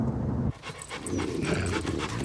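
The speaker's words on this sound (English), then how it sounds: "Dogs." Dogs panting in quick, rhythmic, breathy huffs, heard close and loud after a brief louder noise at the start, with no talk.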